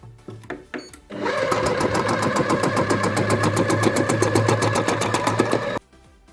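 A Compact Cook Pro multicooker chops two carrots at speed 2 to 3, a steady loud whirring motor drone with a fast rhythmic chopping pulse running for about five seconds before stopping abruptly.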